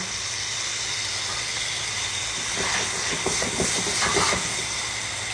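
Chicken broth hits a hot pan of Czech topinka toast seasoned with salt, pepper and garlic, giving a steady broad hiss that swells midway with faint crackles and clicks.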